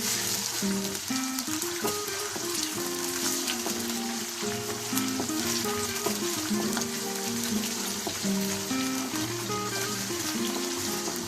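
Chicken pieces frying with onions in a hot pan, a dense, continuous sizzle and crackle up close, with occasional stirring scrapes throughout.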